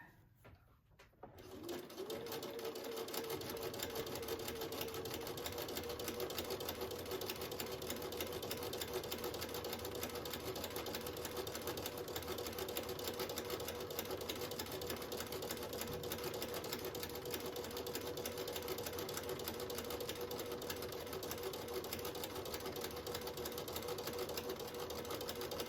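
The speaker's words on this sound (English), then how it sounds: "I'm going to grab my thread and start sewing." A sewing machine stitching quilt fabric starts after a brief quiet moment, then runs in one steady, continuous hum with a fast needle rhythm, close and even for the rest of the time, with no talking.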